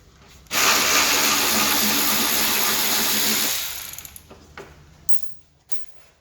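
Power tool undoing a bolt on the front bumper of an Alfa Romeo Giulietta, a loud steady whir for about three seconds that winds down, followed by a few faint clicks and rattles.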